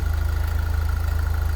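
A 2007 Saturn Sky Redline convertible's engine runs steadily at idle, a close, even low rumble with a regular pulsing throb and no other sounds.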